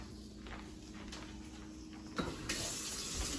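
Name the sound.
tap water running, rinsing pork chops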